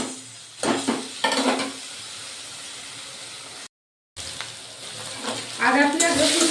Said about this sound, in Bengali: এটা ভালো করে কষবো যতক্ষণ না আদা রসুন পেঁয়াজের কাঁচা গন্ধটা